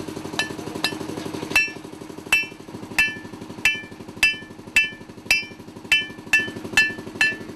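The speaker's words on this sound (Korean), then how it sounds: "불에서 꺼낸 정을 익숙하게 망치로 두드린다." A hammer strikes a heated steel chisel taken from a fire at an Indonesian gold mine, ringing metallic blows at a steady, slightly uneven rhythm, about a dozen strikes, close and loud over a low rumbling engine.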